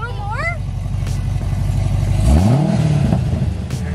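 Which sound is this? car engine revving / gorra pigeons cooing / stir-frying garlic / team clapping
car engine revving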